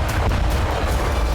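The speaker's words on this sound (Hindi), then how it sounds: "यूक्रेनी सेना रूसी धरती पर नॉनस्टॉप विस्फोट कर रही है।" A loud, deep explosion from a Ukrainian attack on Russian territory rumbles, a heavy broadband boom that fills the brief moment without any talking.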